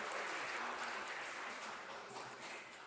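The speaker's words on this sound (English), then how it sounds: "Applause for our distinguished speakers." An audience at an investment forum in Kyiv applauds, a steady, even wash of clapping from many hands heard from some distance, fairly faint and continuous throughout with no voices over it.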